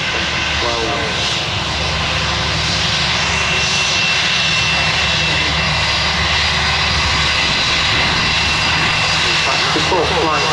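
Airbus airliner jet engines roar loudly and continuously at Manchester Airport, a broad sustained rumble and whine with no breaks, while a voice talks over the noise.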